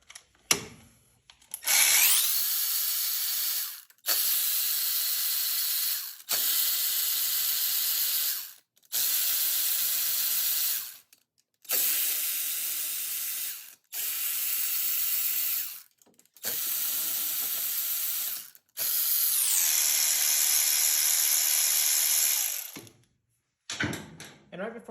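A cordless power tool runs in repeated bursts while backing out cover bolts on a Yamaha Warrior 350 ATV, each loud high whine lasting a couple of seconds, separated by short pauses, with a longer run near the end.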